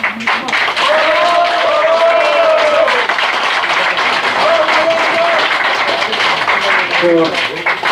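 Sustained audience applause fills a mountaineering club inauguration ceremony, steady dense clapping that runs under a speaker's amplified voice throughout.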